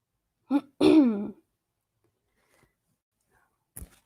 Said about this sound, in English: I freak out when I clear my throat now.